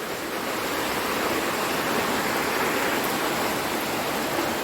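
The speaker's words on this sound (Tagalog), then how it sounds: "Ulan na. Ayan na yung tubig." Steady, dense rush of falling rain, a constant broadband hiss with no breaks, close and fairly loud throughout.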